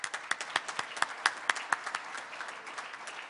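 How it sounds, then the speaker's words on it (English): A small crowd applauds, quick overlapping claps of fairly even rhythm at moderate volume, gradually thinning toward the end. "Let's give them all a round of applause"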